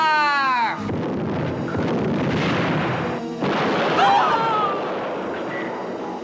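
Cannons fire in a cartoon battle, a sustained roaring blast with rumbling booms and a second burst midway, loud and close, with a voice calling out at the start.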